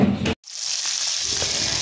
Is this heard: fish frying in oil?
yes